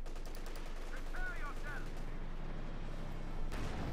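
Machine gun fire crackles in the Company of Heroes 2 strategy game, a steady battlefield rattle of gunshots and distant explosions running continuously under the game's mixed sound effects.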